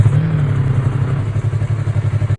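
A motorcycle idles in the Roblox game while it is parked, giving a steady low engine rumble that pulses evenly throughout with faint clatter on top.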